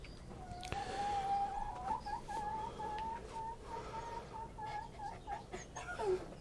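Newly arrived hens clucking inside a coop, a continuous warbling, chattering cluck that rises and falls, close and fairly clear, with soft rustling and no talking.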